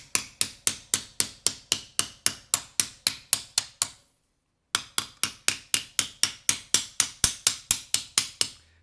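A hammer strikes hot steel on an anvil while a spatula handle is forged round, giving sharp, ringing metallic blows in a fast, even rhythm, about two dozen in a row, a brief pause, then another steady run.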